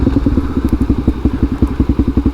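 A Suzuki DRZ400SM single-cylinder motorcycle engine chugs unevenly at low revs, loud and close, a rhythmic series of thumping pops that wavers and stumbles like it is about to stall.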